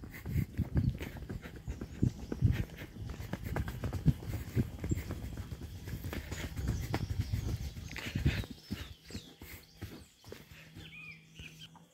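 A mare walks slowly with soft, irregular hoof thuds on the ground, faint and outdoors, with light rustling around it.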